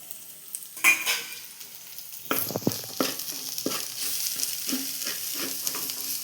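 Meat masala and ground pepper powder toast in a hot pan for mutton curry, a soft sizzle under repeated scraping strokes of a spoon. The stirring is close and fairly loud, with no voices.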